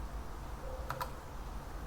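Two quick clicks of keys being typed on a computer keyboard, faint and close, against a low steady background hum.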